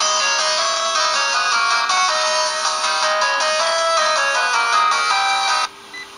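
Telephone ringing in a Japanese FM radio broadcast, a steady electronic ring tone carried clearly for about six seconds before stopping abruptly.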